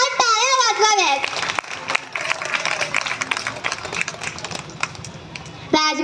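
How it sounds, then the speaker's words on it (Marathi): An audience, mostly women, at a Rajmata Jijau birth anniversary gathering breaks into lively applause right after a voice on a microphone, a dense burst of clapping that lasts several seconds before another voice returns. "जोरदार टाळ्या वाजवाव्यात"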